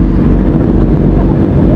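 A QJ Motors motorcycle engine drones as a loud, steady low rumble, heard up close and continuous throughout, with some wind-like noise mixed in.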